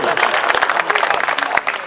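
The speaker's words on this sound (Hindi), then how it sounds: "तालियां बजाओ अगर समझ में है बात आ रही हो" Brief burst of audience applause at a Hindi poetry recitation, dense clapping close and loud with some voices mixed in.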